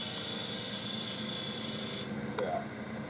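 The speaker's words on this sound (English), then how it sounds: "We're going to go back and put our sanding disc back in." A sanding disc on a lathe rasps steadily against a wooden duck call piece, a loud continuous scratchy hiss that stops abruptly partway through, leaving quieter room noise.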